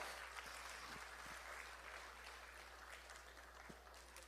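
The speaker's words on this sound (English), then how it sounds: "Please give him big round of applause." Faint, distant audience applause at a 25th anniversary celebration, a steady soft wash of clapping over a low hum that carries on for the whole stretch.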